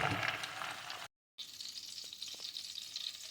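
Quince fruit frying in hot oil for pickle, a steady close sizzle with crackling bubbles and a brief silent gap partway through.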